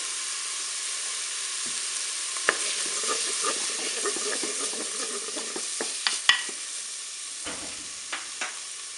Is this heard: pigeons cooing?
no